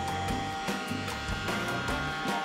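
A smart robot vacuum cleaner runs close by, a steady whirring motor and blowing air with a faint rhythmic pulsing, and no talk over it.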